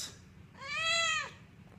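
A cat meows once, a clear, fairly close drawn-out cry rising and then falling, heard alone over a low steady background hum.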